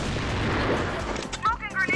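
Gunfire rattles out in a CrossFire Legends match, sharp booming shots mixed with game effects, while a voice talks over the final moments.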